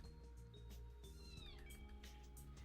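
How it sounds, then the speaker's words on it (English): A baby kitten cries in the background, thin high mewing calls rising and falling beneath a dense bed of game music and electronic tones, faint and somewhat masked. "If you also hear crying in the background, it's a baby kitten."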